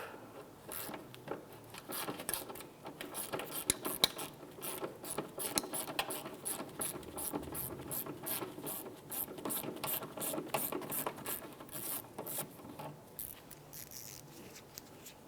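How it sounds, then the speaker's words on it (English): A ratchet backs out a 10mm bolt from the tail light of a 2001-2005 Honda Civic, making a long run of quick, evenly spaced close clicks that continue steadily with no speech. "Right up top here, we have a 10mm bolt to go ahead and remove."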